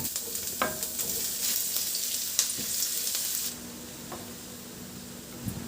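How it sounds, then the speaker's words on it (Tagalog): Garlic sautéing in hot oil in a pan, a steady close sizzle with scattered sharp pops and spatula clicks that quiets somewhat partway through. "Maglagay muna ako ng mantika sa kawali at painitin at igisa ko na yung bawang"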